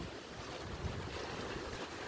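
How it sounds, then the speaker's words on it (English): Wind gusts over open sea on a day turning rough after calm, a steady roaring rush mixed with breaking waves and buffeting microphone noise, no voices. "The winds are picking up."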